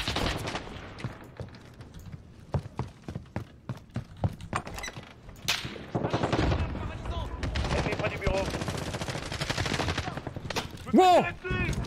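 Rapid gunfire from Call of Duty Modern Warfare, with bursts of automatic fire and single shots repeating through the clip, loud and dense, and a brief rising whine near the end.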